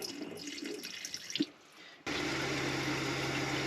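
Water pouring from a tap into a bowl to rinse food until no longer cloudy: brief drips and splashes, a short pause, then a steady loud rush of filling water.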